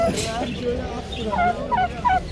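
Turkeys gobble at an outdoor poultry and bird market in Adana, several calls overlapping in a rapid run of repeated bursts through the second half, set against steady crowd murmur.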